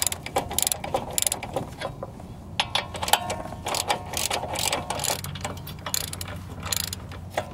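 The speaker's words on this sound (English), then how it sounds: "Now we can get in here with our normal ratchet. Just loosen these up." A standard socket ratchet loosens tight brake caliper bolts on a car during a front and rear pad and rotor change, giving a steady run of close, crisp metallic clicks with short pauses between strokes and no talking.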